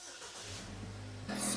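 A Chevy Equinox with the 2.4 engine and a P0011 VVT actuator fault turns over and catches, with a low hum rising and then a quick jump into idle near the end, faint and recorded close in a quiet shop.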